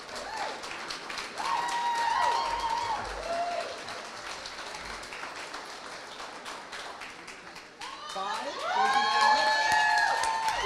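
Audience at an Ohio advocacy gathering breaking into applause and cheering, with high shouts and whoops rising over the clapping in two loud swells and a quieter stretch between.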